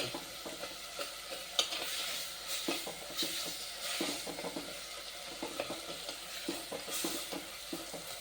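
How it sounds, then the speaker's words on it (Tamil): Tomatoes soften in a pan for a brinjal curry, a low, steady sizzle broken by repeated scraping strokes of a spoon stirring them, close and moderately quiet with no talking. "தக்காளி நல்லா வதங்கி வச்சுக்கணும்"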